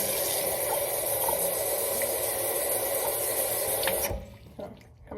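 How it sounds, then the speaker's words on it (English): Running water from a sink tap pours steadily while cups are washed under it, then cuts off near the end, leaving a few soft clinks and drips. "2 cups, and we're gonna wash them."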